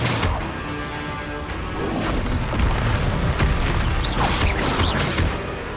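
Booming magical explosions from the Confringo fire spell in Hogwarts Legacy burst out in quick succession with whooshing impacts and crashes, loud and close amid ongoing combat noise.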